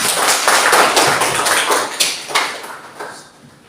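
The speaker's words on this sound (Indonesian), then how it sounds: "Ayo kita tepuk tangan." Hands clap in a classroom as a group applauds a classmate's question, a quick run of sharp overlapping claps that thins out and fades over a few seconds.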